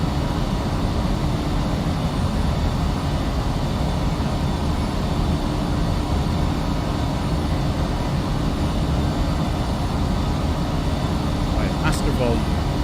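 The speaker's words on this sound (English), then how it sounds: "I think the engines are overpowered." Twin turboprop engines of a Fokker F50 in the Prepar3D v5 flight simulator give a loud, unbroken broadband drone that holds steady throughout, with a brief faint chirp near the end.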